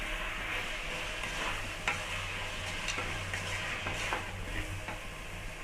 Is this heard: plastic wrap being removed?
no